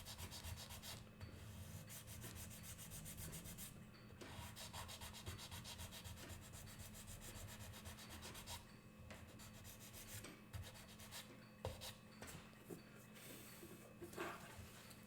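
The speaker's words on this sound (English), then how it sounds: "I'm just going to sand this area right where the back of the head or the chamfer is going to go" Sanding block rubbed steadily against the head of a wooden violin bow, a continuous dry scratchy rasp with brief pauses and short bursts, close and alone.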